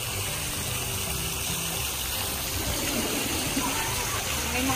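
Water pours steadily from a mushroom-shaped shower at a resort pool, a continuous close splashing wash with faint voices mixed into the background.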